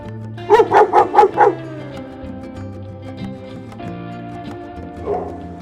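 Dogs in a kennel play yard bark loudly in a quick run of about five barks close by, followed by quieter background noise and a faint later yip.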